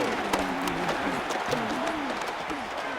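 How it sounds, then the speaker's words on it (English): Stadium crowd in the Madden NFL 26 video game during a Chicago Bears game, a dense roar of cheering and clapping at third and goal, steady and full throughout with faint commentary beneath. "This crowd doing all they can"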